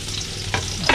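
Onion and garlic sautéing in a hot pan give a close, steady sizzle and crackle, broken twice by brief scraping stirs, with no talking.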